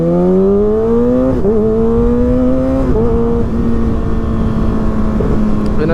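A Kawasaki ZX6R motorcycle fitted with an M4 GP19 exhaust is ridden. Its loud, close engine drones and climbs in pitch, with brief dips at a couple of gear shifts before it settles into a steady cruise.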